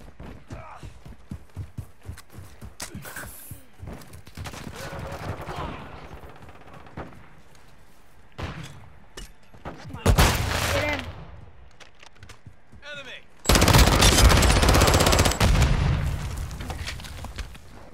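Submachine-gun fire in a Call of Duty match, scattered shots and short bursts building to loud, dense volleys near the end, with a player talking at times.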